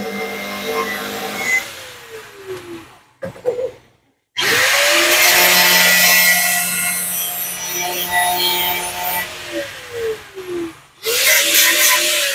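A power drill bores into wood in three loud bursts, its motor whine rising and falling with speed, separated by short pauses, with no talking.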